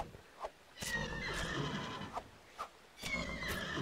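Three loud, close neighs from a wild horse in the prehistoric survival game Dawn of Man, each a shrill whinny separated by brief sharp thuds, with no talk over them.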